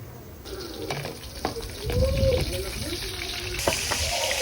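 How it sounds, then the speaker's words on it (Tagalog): Vegetables sizzle and fry in a pan as they are sautéed in a home kitchen. The hiss is moderate and rises midway, with the scrape of stirring and a few clinks over it. "Gisadong gulay."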